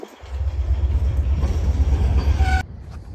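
A Norfolk Southern freight train rumbles past nearby in Virginia, giving a loud, steady low roar with rolling wheel clatter and a faint high squeal before it cuts off abruptly.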